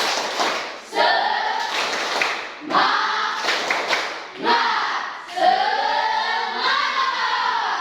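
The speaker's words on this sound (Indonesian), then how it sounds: "Tepuk semangat." A group of people performs a rhythmic spirit clap in a classroom setting, with bursts of patterned hand claps and chanted voices in several loud, close phrases.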